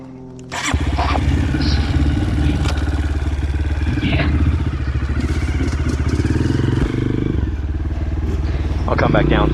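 Honda CRF230F dirt bike ridden along a rutted beginner trail in first gear, its engine kicking in loud and close with a steady chugging mid-pitched drone and rattling clatter, with a voice over it.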